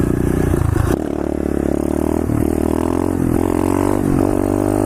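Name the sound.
pit bike engine revving during a third gear wheelie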